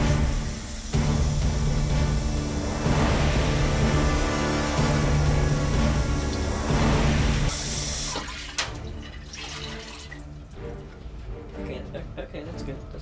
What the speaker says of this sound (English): Fill the mug up with some water.